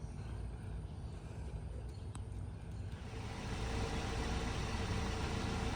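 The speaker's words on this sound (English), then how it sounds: "The vehicle is running" Car engine idling steadily up close, a continuous low rumbling hum that grows slightly louder toward the end, with a faint click in the middle.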